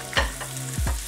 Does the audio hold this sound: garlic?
yes